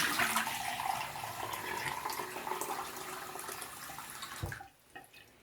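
Water pours steadily into the refillable tank of a Hangsun HOC200 water flosser, a close splashing, gurgling stream under a faint hiss that cuts off abruptly near the end, leaving quiet.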